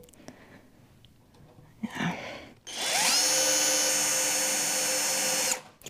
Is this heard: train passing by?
no